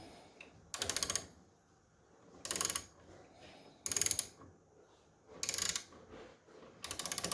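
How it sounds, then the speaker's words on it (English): A socket wrench ratchets in five short bursts of rapid clicking, separated by pauses, as it tightens hardware on a pinball train track mod. "Using whatever tools you have available, you will need to tighten the provided hardware. I'm using a 5/16 socket."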